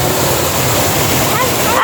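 A mountain river on Mt. Kapigpiglatan in the Philippines rushes in a loud, continuous close roar of flowing water, with a voice briefly rising over it at the end.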